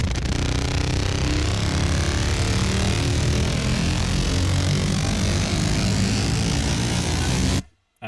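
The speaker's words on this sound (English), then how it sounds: "I just was kind of trying to model a car revving." A synthesized engine-like roar sweeps upward in pitch like a revving car, loud and continuous, then cuts off abruptly near the end.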